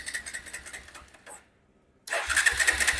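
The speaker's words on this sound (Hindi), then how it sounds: "लेकिन बाइक स्टार्ट नहीं हो रहा है।" A Bajaj Pulsar NS 125 motorcycle's electric starter cranks without the engine catching, a near, continuous whirring grind that cuts off into a second of silence before cranking resumes loudly.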